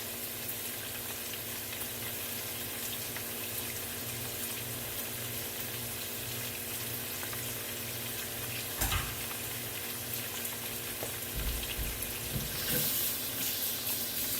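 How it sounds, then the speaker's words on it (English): Kitchen tap water runs steadily into a sink being rinsed out, a constant close hiss with a couple of brief splashes and clunks near the end. "Just over here washing the sink out."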